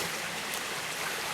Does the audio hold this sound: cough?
no